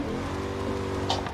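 A BMW E30 Touring drifting on a circuit, its engine droning steadily with a continuous tire hiss and a brief squeal near the end, heard from inside or close by with no talk.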